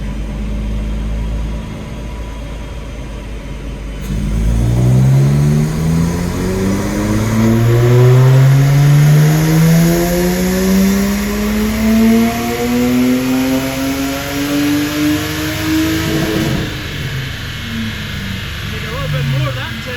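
A Lexus IS200 engine on a dyno revs up repeatedly through second, third and fourth gears, each pull a rising, loud, close whine, with a voice talking over it.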